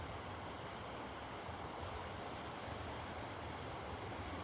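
River rapids fed by clear mountain water rush in a steady, broadband roar that stays constant and fairly faint throughout, with no voices.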